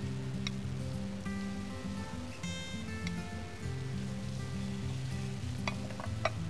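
Lamb tenderloins sizzle in a hot oiled pan, a steady close frying hiss with a few sharp pops scattered throughout; no one speaks.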